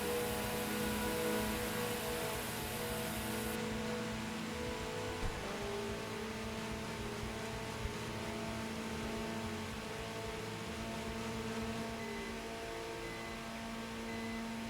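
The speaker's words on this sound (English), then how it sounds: "I'll burn all the nitrous so we can refill it." A game car's engine drones in a steady, continuous whine while burning nitrous, the pitch holding high with a small shift partway through and no letup across the stretch.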